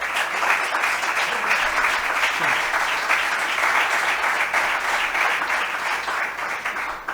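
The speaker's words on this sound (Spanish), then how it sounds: "les pido un aplauso para Jaime" Audience applause for Jaime ahead of a talk on wine and health, a loud, dense, steady clapping from a seated crowd that runs without a break for the whole stretch.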